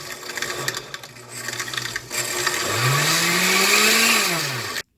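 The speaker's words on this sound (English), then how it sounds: "Yes, folks, the blender." A blender whirs while grinding a Prismacolor colored pencil, its motor droning at first, then surging upward in pitch and staying loud until it cuts off abruptly.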